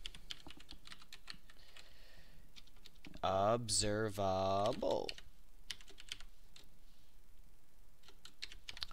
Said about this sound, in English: I am having trouble typing.